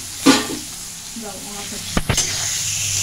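Potato and eggplant fry in hot oil with a steady, close sizzle, broken by a couple of stirring clatters. A voice speaks briefly over it.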